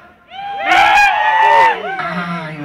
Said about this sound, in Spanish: A ver, grito cuyano.